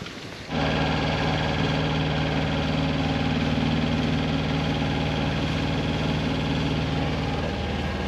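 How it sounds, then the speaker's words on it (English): A sailboat's engine starts at sea near Lady Musgrave Island on the Great Barrier Reef, catching after a brief moment and then idling with a steady, close, even drone for the rest of the clip. "Just started the engine."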